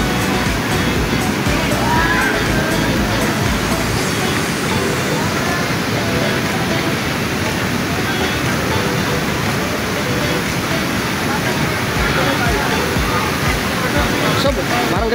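Rushing water from Taytay Falls in Majayjay, Laguna roars as a constant broad wash of noise throughout, loud and close, with voices audible under it at times.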